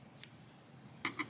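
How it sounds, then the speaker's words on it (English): Scissors snipping a chunky yarn tail while crocheting an amigurumi alpaca, one crisp close snip followed a moment later by two quick snips, with a quiet room between them. "you can take your scissors, cut that tail"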